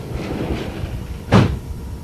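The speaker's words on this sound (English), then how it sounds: "I closed that door." A single solid thud of a door being shut, close and loud, inside a vehicle on an African safari among wildebeest herds, over a steady low rumble of engine or wind noise.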